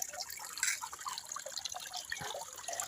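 Spring water trickles and splashes steadily from a village water source in rural Africa, a close, continuous liquid babble with small drips and gurgles and no voices.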